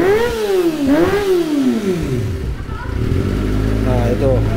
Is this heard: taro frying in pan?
no